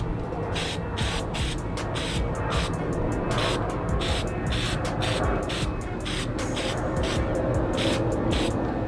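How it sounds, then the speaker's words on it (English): Mink oil sprays onto suede sneakers in a steady, continuous hiss that lasts throughout, with faint rhythmic pulses and no talking. "you're going to take your mink oil, you're going to spray it"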